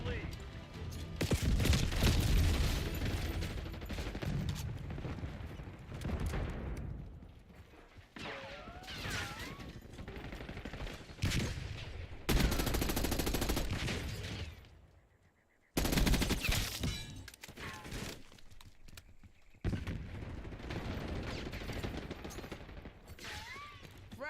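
Rapid automatic gunfire and explosions from the Black Ops 6 video game on the Nuketown map, loud bursts broken by short gaps, with a voice talking over parts of it.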